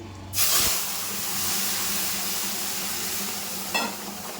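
Hot spice tempering poured into a vegetable curry, a sudden loud hiss and sizzle that flares up and settles into steady steaming, with a short clatter near the end.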